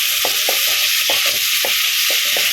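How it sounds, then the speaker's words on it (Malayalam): Onions and beef with turmeric sautéing in a pan: a steady loud sizzle with a spoon scraping and stirring in a regular rhythm, about six strokes, no talk. "നല്ലപോലെ വഴണ്ട് വരുന്നതോടെ വരെ നമുക്ക് വഴറ്റാം"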